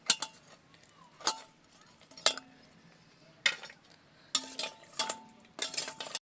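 Malpua being flipped in sugar syrup with metal utensils: sharp scraping clinks of spatula against pan come in separate bursts, one or two at a time, growing busier toward the end, with a quiet background and no talk.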